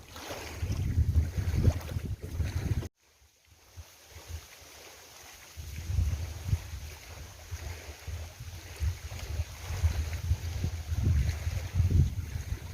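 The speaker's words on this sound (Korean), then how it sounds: "장성호의 파도 소리가 정겹네요." Steady wash of water and wind noise, briefly cut off, then continuing as lapping waves on Jangseong Lake, South Korea, with gusty rumble from wind across the microphone.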